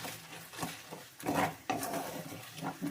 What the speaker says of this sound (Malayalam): ഇളക്കി കൊടുത്തോണ്ടിരിക്കണേ പതഞ്ഞ് വരുന്നുണ്ട്